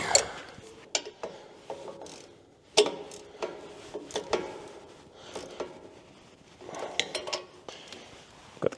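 Metallic clicks and clanks from a ratchet wrench turning a nut in a cramped, blind spot on a CASE excavator with no power, arriving as irregular bursts of ratcheting and tool knocks, fairly close, with no talk.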